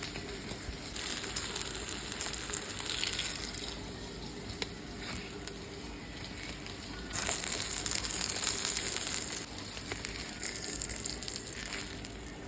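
Pieces of fried hilsa fish lifted one at a time out of hot frying oil, a steady crackling sizzle with louder bursts of scraping and clatter, no talking.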